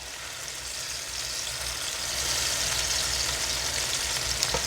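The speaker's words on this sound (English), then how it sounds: "we are almost there with the sear" Skirt steak searing in a pan gives a steady, close sizzle that swells slightly louder midway and holds as an even hiss, with no talking over it.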